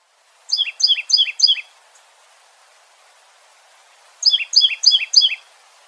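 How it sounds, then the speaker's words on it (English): A titmouse calls in two bursts of four quick, clear whistled notes each, separated by a few seconds of silence, close and bright. "Titmouse."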